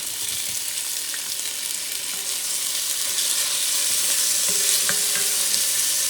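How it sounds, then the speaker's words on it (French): Tomatoes go into a pan of small onions roasting over heat, giving a dense, loud, continuous sizzle with scattered scraping and stirring ticks, no one speaking. "Et là, je vais pouvoir les ajouter aux petits oignons qui sont en train de"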